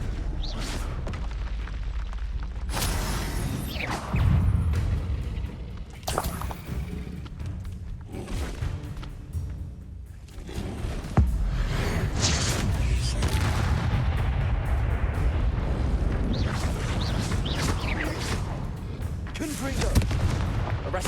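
Confringo fire-blast spells in Hogwarts Legacy go off as a series of booming explosions with rumbling combat noise between them, and a voice speaks over the action.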